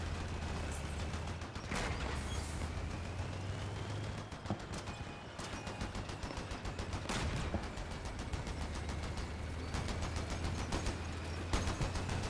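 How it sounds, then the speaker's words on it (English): Guns fire in Crossout, the vehicle combat game, as scattered close shots and rattling bursts over a constant low engine drone, with occasional louder blasts. "Guns, please shoot."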